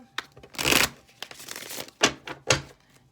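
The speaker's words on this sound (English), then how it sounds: "one more shuffle and we should be good to go" Tarot cards are shuffled close up with a long riffling burst, followed by softer rustling and a few quick slaps as the deck is squared.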